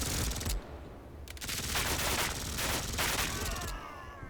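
A machine gun squad fires on a WW2 beach battlefield in a turn-based strategy game, with loud bursts of automatic fire that stop, restart and overlap in dense volleys.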